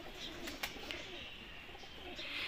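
Flying-breed pigeons coo softly in the background, a low murmuring over faint outdoor noise with a couple of brief clicks.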